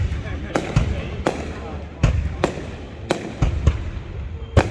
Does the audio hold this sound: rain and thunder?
no